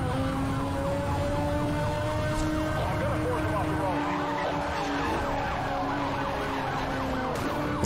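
Police sirens wail continuously in the racing game Need for Speed Hot Pursuit, layered wavering tones over a roaring engine and tire skids, loud and sustained throughout.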